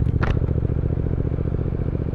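Triumph Speed Twin motorcycle, a 2023 retro model, burbling from its exhaust in a rapid, even, machine-gun-like pulse, loud and close and continuous, with a brief higher rasp near the start.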